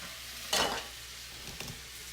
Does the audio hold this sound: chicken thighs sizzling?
yes